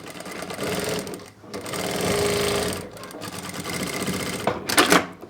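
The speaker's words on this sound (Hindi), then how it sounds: "यहाँ से यहाँ तक सिलाई लगा लेंगे।" A sewing machine runs in bursts stitching the shoulder seam of a sleeveless cord-set top, its steady mechanical whir rising and pausing several times at close range with no talk.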